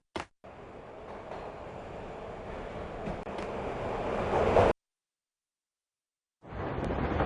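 Train rumbles along in Max Payne Mobile, a steady rolling clatter building louder over several seconds, cutting to silence, then resuming.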